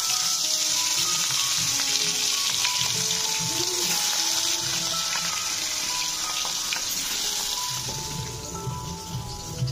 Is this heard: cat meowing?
no